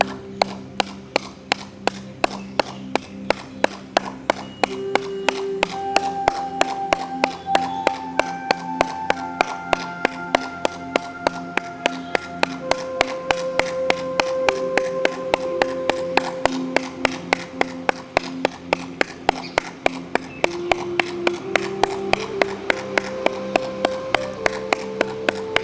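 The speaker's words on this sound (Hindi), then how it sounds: "ताली बजाएंगे।" Steady rhythmic hand clapping during a yoga session, a long unbroken run of even claps over soft background music for about twenty-five seconds.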